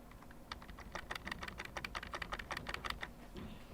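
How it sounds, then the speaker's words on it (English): Computer keyboard keys are pressed repeatedly in a quick, uneven run of sharp clicks, close and fairly quiet, while an equation is edited on a computer. "I backspace."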